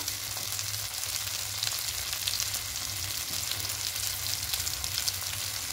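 Spice paste for a vegetarian malai potol curry sizzling and frying in a pan, a continuous bright crackle holding steady with a low hum beneath, no talking.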